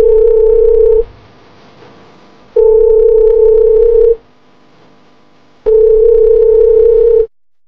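Repeating steady tone bursts of a phone line during a call, each lasting about a second and a half with gaps of silence between, loud and clear with no talking.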